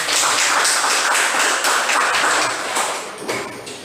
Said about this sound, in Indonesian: mari kita beri tepuk tangan ya untuk